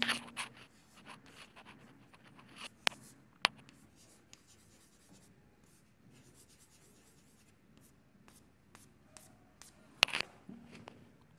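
Musical note values written by hand on paper, with quiet pen scratching and rubbing strokes, a few sharp taps and clicks scattered through, faint and close without any talking.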